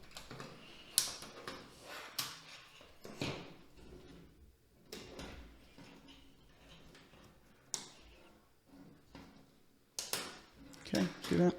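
Lux Blox plastic pieces are snapped together into a toy race car body. Sharp, irregular clicks and snaps sound close by, spaced a second or two apart, while a person talks throughout.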